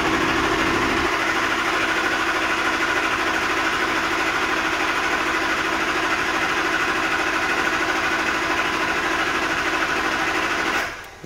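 LB7 Duramax diesel engine cranking without starting: a steady, rapid mechanical whirring and chugging held at constant loudness for about ten seconds, then cutting off.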